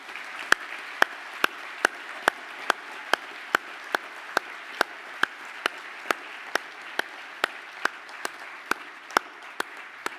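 A graduation ceremony audience applauds a standing cohort of Master of Arts in Teaching and Learning graduates, a steady patter of clapping lasting about ten seconds, with sharp evenly spaced clicks cutting through it.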